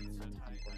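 A phone rings in the video game GTA 5 roleplay, a brief tonal ringtone burst heard close up alongside background game sound, with a voice speaking over part of it.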